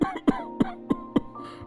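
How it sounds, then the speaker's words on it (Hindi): An elderly man in a Hindi cartoon story coughs about five times, harsh and close, with short pauses between the bursts, in a cold evening setting at home. "अरे बेटा, ये खांसी बढ़ती जा रही है।"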